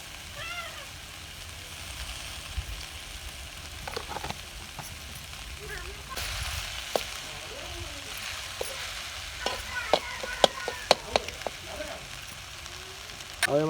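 Two medium tomatoes with salt and turmeric fry in a pan as a spoon stirs them, giving a soft continuous sizzle broken by sharper scraping knocks, with faint background voices.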